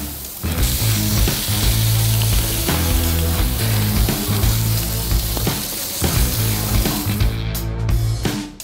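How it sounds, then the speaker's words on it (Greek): Beef steaks and corn on the cob, brushed with aromatic butter, sizzle steadily on a hot barbecue grill. The hiss is loud and continuous and fills the whole stretch with no talking. "Πάμε να βάλουμε δίπλα και τα καλαμπόκια μας και προσθέτουμε πάνω στα καλαμπόκια αρωματικό βούτυρο με ένα πινέλο."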